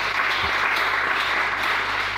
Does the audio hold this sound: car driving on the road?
no